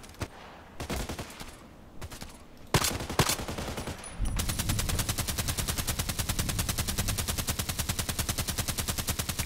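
Video game gunfire: scattered single shots and short bursts, then a long steady rapid automatic stream of machine-gun fire, loud and close, with no talking.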